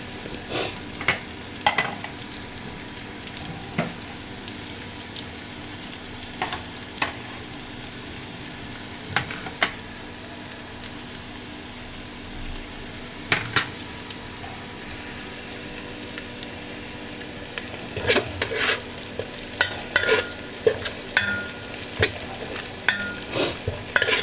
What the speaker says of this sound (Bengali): পেঁয়াজটা সামান্য নরম হয়ে আসলে আমি একে একে মশলাগুলো কষিয়ে নেব